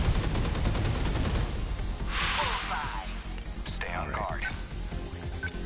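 Rapid gunfire bursts from the video game 13 Sentinels: Aegis Rim, a dense volley of shots early on, then game effects and lighter impacts.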